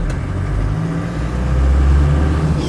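A Land Rover 90 with a 2.5 turbo-diesel engine drives along, its low rumbling drone swelling slightly as it pulls, heard close and fairly loud without voices.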